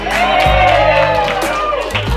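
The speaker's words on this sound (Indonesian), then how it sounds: "Dari Anda tepuk tangan untuk Mas Steph." An audience at a civil servants' session on preserving local NTT dance applauds and cheers for Mas Steph, with whoops and shouts over a dense, loud crowd roar.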